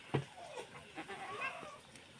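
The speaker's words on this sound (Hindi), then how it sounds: "और अब हम बकरियों को दे रहे हैं रोटी।" Goats bleating while being fed roti at a rural home, a sharp nearby bleat at the start followed by softer overlapping bleats and murmurs over quiet background noise.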